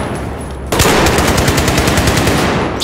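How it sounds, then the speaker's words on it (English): Sustained automatic gunfire in the video game Battlefield 4, kicking in abruptly after a short quiet lead-in and rattling on loudly in rapid, dense bursts until the end. "Stop shooting at me!"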